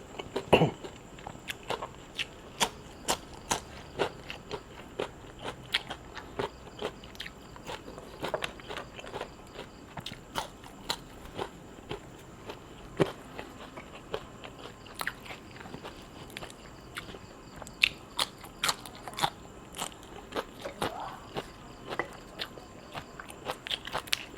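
Crispy fried dried fish and crunchy shrimp, eaten with a bean salad, being chewed up close: a steady run of sharp, loud crunching bites and crackles repeating throughout, with no talking.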